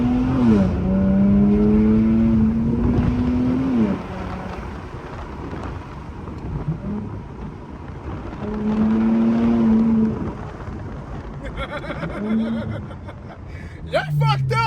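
An Infiniti Q50 with its muffler deleted revs loudly in a few sustained rising and falling pulls, its deep drone heard under a voice.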